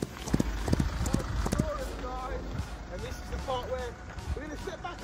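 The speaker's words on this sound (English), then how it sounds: "Oh my God, the horses are out." Horses moving around outdoors, with clip-clop hoof sounds scattered through the clip under excited talk from several voices.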